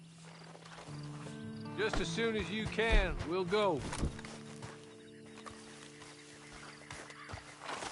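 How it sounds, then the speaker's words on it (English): A horse in a western video game gives a loud, close whinny with a wavering pitch, followed by snorts and the clip-clop of hooves, while someone speaks. "Then you better get on this horse."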